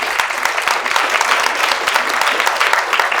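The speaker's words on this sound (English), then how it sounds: "give them a round of applause" An audience applauds a panel after a public election discussion, with loud, dense, close clapping sustained throughout and a faint crowd murmur underneath.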